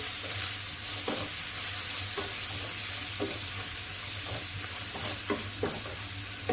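Ginger, garlic and green chillies fry in a pan over a medium flame, a steady loud sizzle with regular scraping stirs every half second or so.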